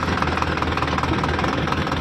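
A Powertrac Euro 60 tractor engine runs steadily close by, a continuous knocking diesel chug with a rapid, even pulse and no voices over it.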